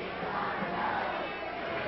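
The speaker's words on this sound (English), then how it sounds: "The crowd still with her chanting, "We want Billy."" A wrestling crowd chanting for Billy at a Billy Jack Haynes versus Kendo Nagasaki match, a sustained, loud wash of massed voices with no distinct pauses.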